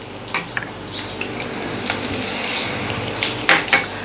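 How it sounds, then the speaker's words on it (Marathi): Onion and tomato sautéing in a pan while a spoon stirs, a steady close sizzle with scattered scrapes and clinks of utensil on metal, no voices. "हे सगळे पदार्थ आपण एक मिनिटभर छान असे परतून घेऊयात आता यामध्ये आपण कांदा घालूयात त्याचबरोबर टोमॅटो सुद्धा घालूयात"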